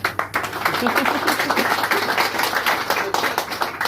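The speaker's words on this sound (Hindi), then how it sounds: "एक बार मदर डेयरी के लिए मैं तालियां बजाऊंगा" Clapping rings out during a son's emotional retirement speech for his father, in a tribute to Mother Dairy, the workplace. Quick, close handclaps run under a speaking voice.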